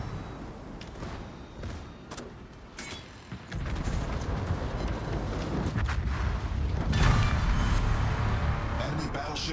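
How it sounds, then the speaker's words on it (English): Naval gunfire in World of Warships builds from scattered distant booms into a dense, continuous rumble of artillery and explosions, loud and sustained, with faint game noise underneath. "he's shooting at the ship in front of me"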